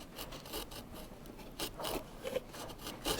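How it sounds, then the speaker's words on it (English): A wood chisel carves and scoops spruce-like brace wood inside a Martin D-28 guitar in a repair shop, giving quiet, close scraping and rasping strokes in uneven bursts. "scoop this out, but keep good control of the chisel"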